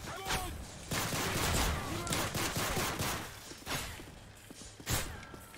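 Gunfire in Call of Duty: Modern Warfare 3, with a series of scattered shots and bursts over a busy, layered game soundscape at moderate level, including several sharp cracks toward the end.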